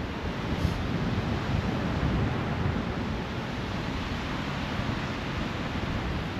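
Strong wind buffets the microphone at a windsurfing beach in New Zealand, a dense continuous roar mixed with surf, loud and steady throughout with no voices.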